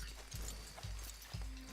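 Horse hooves clip-clop in a video game, three separate heavy low thuds spaced about half a second apart, close and moderately loud with no talk over them.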